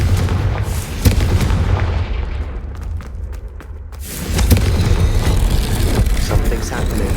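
A Confringo fire spell blast in the video game Hogwarts Legacy: a loud booming burst at the start, a rumbling tail fading through the middle, then a second heavy blast with dense crackling noise continuing to the end.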